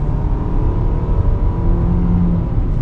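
A 2023 Nissan Sentra 2.0 16V Advance driving in sport mode, its engine giving a loud, steady droning hum with road and tyre rumble heard from inside the cabin.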